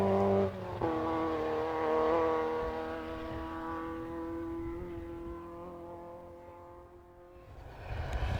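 A Peugeot rally car races along a forest stage, its engine note climbing and holding in sustained revving tones before fading slightly, then a fresh burst at the end; fairly close, no talk.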